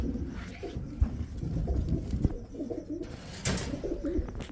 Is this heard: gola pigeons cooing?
yes